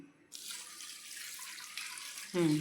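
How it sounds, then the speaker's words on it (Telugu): Water pours steadily into a pot of jaggery and oil on a stove, a continuous splashing stream lasting a couple of seconds before a short burst of voice at the end. "అలాగే ఇప్పుడు వాటర్ పోసుకుందాం."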